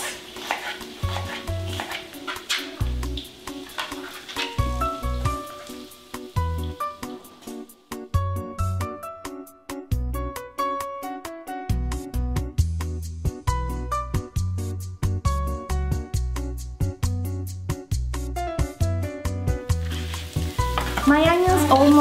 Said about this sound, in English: So I'll start by sauteing my onions.